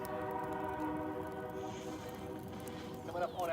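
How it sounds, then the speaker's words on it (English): A train rumbles past outside with a long horn sounding through it, steady and moderately loud throughout, with some talk in the background. "I don't know if you guys can hear the trains out there, but the trains are going."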